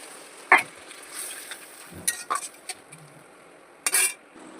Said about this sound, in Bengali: মাছ দিয়ে হালকা একটু নাড়াচাড়া করবো